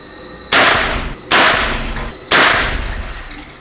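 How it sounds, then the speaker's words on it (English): Test gunshots fired into a ballistics water tank in a crime lab: three loud, sharp bangs spaced about a second apart, each followed by a decaying reverberant tail. "we take all of our test shots in this tank"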